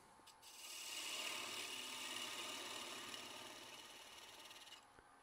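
A 1/8-inch parting tool cuts into wood spinning on a lathe for a Christmas tree ornament, giving a steady scraping rasp that holds for about four seconds and then stops, moderately close.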